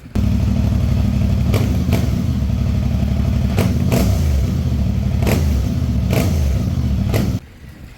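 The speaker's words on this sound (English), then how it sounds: "The sound of this motorcycle is great." A CFMoto 450MT motorcycle with its stock exhaust runs loud and close, a steady throbbing parallel-twin drone with several sharp clacks or gear-change thumps, then cuts abruptly to near quiet.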